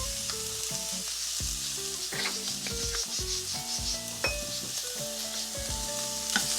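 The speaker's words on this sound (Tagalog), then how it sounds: "pagmamantikain lang natin ng konti para iyon din yung ipanggigisa natin" Pork frying in its own rendered fat with a little salt, the base for ginataang sitaw at kalabasa: a continuous close sizzle with stirring, heard under background music throughout.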